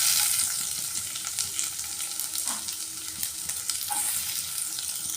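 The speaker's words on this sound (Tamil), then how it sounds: "எண்ணெய் காஞ்சோடனே வெங்காயம் போட்டு வதக்கலாம்" Onions sautéing in hot oil in a pan, a continuous crackling sizzle with occasional light stirring scrapes, close and moderately quiet.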